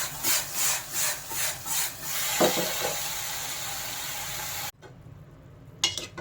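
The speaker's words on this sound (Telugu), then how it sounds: "మధ్య మధ్యలో ఇలా కలుపుతూ చూసుకోవాలండి, అడుగంటకుండా వేయించుకోవాలి" A spoon scrapes rhythmically through okra and dried prawn curry in a pan, quick repeated strokes over a steady sizzle, then a continuous frying hiss that cuts off abruptly near the end, followed by brief faint scrapes.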